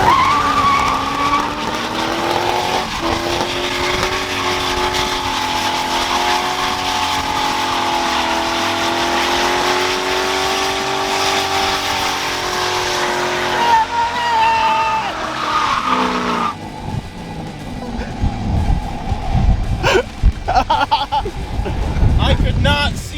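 A car dumps the clutch in second gear for a burnout, its engine roaring steadily with a long screeching tire squeal that drops off near the end into rumbling and clatter, loud and close.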